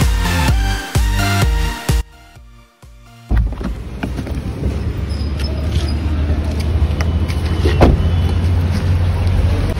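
Heavy traffic in the busy main market of Anantnag: a steady rumble of idling engines and street noise, with a few sharp knocks and clatters at the start, loud and close.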